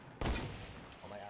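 Gunfire in a shooting video game erupts as a sudden loud burst of shots followed by a ringing, decaying tail, with a brief softer sound afterward.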